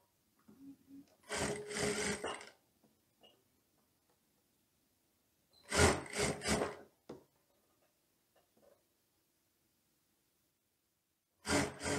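A sewing machine fixes the collar of a teddy coat to the neckline with a narrow seam in three short, close bursts of rapid stitching, separated by quiet gaps with faint handling taps.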